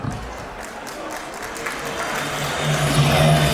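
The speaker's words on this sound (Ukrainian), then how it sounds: "И под всеобщие аплодисменты" Applause from the audience at a show by the Caucasian dance group Dagi, a dense, steady patter of many hands that swells slightly toward the end, with a faint voice and a low hum underneath.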